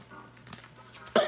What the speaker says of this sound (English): I've had this cough